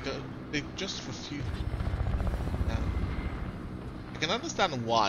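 Helicopter rotor in the Fortnite video game, a steady low thrumming drone that swells through the middle, heard under continuous talking from players.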